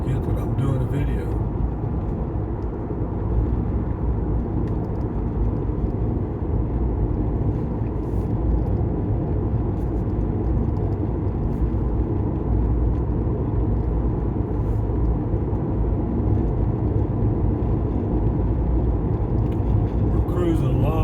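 A car cruises along a Texas Hill Country road at about 48 mph, giving a steady, loud low rumble of engine and road noise with wind, unbroken throughout.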